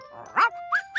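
A cartoon dog in Alphablocks gives a few short, bright barks over a steady sustained tone, spaced close together and fairly near in a clean studio mix.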